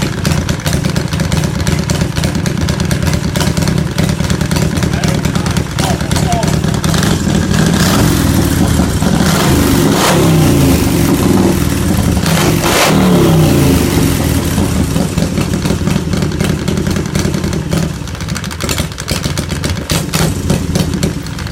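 A motorcycle engine starts and revs, running loud and steady close by for the whole stretch, with throttle swells rising and falling over a constant mechanical drone and no talk.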